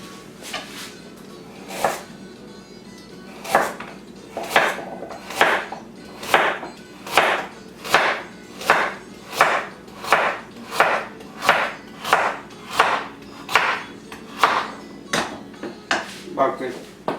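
A knife chops carrots into wheels on a cutting board, producing a steady run of about twenty crisp, evenly spaced thuds close by, with faint voice murmurs underneath.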